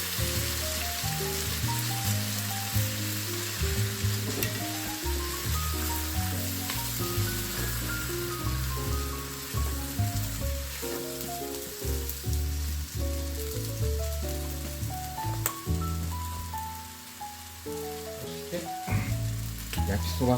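Meaty yakisoba noodles with bean sprouts and softened cabbage sizzle in a pan, giving a continuous crackling hiss under clear tonal background music.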